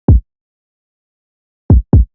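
Three short, deep, thumpy kick drum hits from a simple EQ-boosted sample, one alone then a quick pair after a gap, loud and dry with no other sound.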